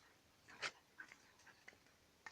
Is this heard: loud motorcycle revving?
no